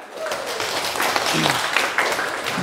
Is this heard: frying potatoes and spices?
no